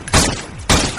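Gunfire in a Spanish-language audio drama: two loud, sharp bangs about half a second apart, each ringing briefly with a heavy low thump, close and alone.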